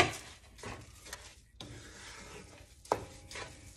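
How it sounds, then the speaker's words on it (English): Long grain rice is stirred into a sauce in a pot for jollof rice, giving a close scraping and swishing with a faint sizzle under the strokes. "Now I'm gonna go ahead and stir that on in there."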